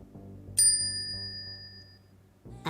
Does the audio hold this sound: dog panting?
no